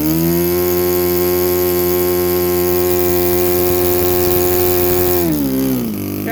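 A Saito 82 model engine on ignition screams at around 10,500 RPM, a loud, steady high-pitched buzz that holds constant and then drops sharply in pitch near the end as the throttle comes back.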